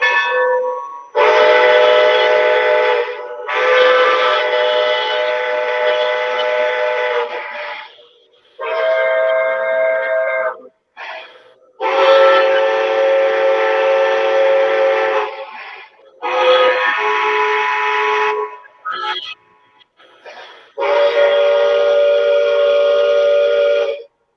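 A Lionel LionChief 2.0 cab forward model train whistle blows in a series of separate toots, each at a different one of five pitch levels, with short silent gaps between blasts.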